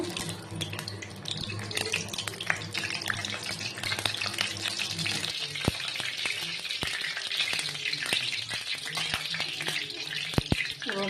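Dried red chillies fry in hot oil for a khichuri tempering, producing a dense, close crackling sizzle with sharp pops scattered throughout, steady and fairly loud.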